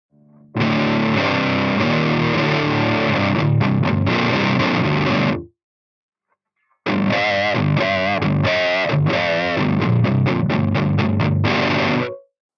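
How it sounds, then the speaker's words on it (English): Heavily distorted electric guitar through a Harley Benton Mighty 15 amp with cranked distortion and a boost pedal, loud chugging metal riffs, a brief pause, then more crunchy distorted playing. "crank the distortion"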